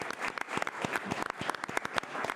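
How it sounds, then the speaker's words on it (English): A modest round of applause at a high school sports event honoring Vanderbilt Catholic's coach, scattered hand claps from a small group, distinct and irregular, moderately close, with a faint voice underneath. "How about a nice round of applause for that?"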